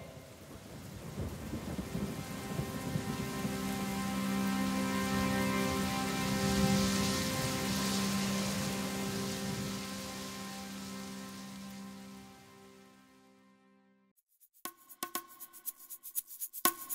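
Steady rain pours with a low rumble of thunder beneath it, a broad wash of sound that swells and slowly fades, followed by scattered drops and light taps near the end.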